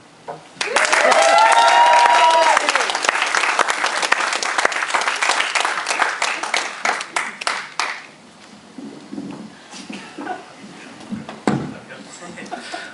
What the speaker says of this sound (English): please give a very warm round of applause, a very warm welcome for Just Simon.